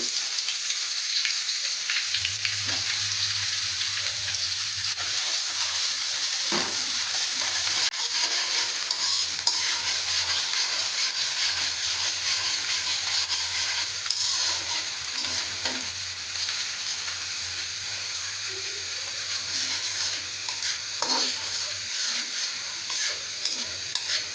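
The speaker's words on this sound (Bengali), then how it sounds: "তেলটা একটু গরম হয়ে আসলে এর মধ্যে আমি দুইটা বড় সাইজের রসুন কুচি দিয়ে দিলাম" Steady, loud sizzling of chopped garlic frying in hot oil, a continuous crackle with faint occasional stirring and a low hum underneath.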